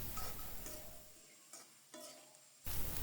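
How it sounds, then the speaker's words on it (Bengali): Cabbage and cauliflower being stir-fried in a pan: a soft steady sizzle with intermittent scraping stirs, quiet and close, with no talking. "এরপর আমি সবজিগুলোকে ভালো করে নেড়ে চেড়ে কষিয়ে নেব"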